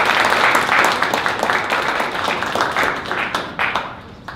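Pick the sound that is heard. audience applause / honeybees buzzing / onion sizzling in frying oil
audience applause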